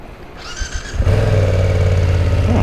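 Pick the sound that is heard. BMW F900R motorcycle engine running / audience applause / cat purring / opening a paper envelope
BMW F900R motorcycle engine running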